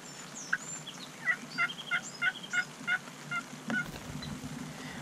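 A wild turkey gobbles in a rapid, rolling series of calls on a spring hunt as it approaches, distinct but somewhat distant and fairly loud over a quiet outdoor background, with no voices.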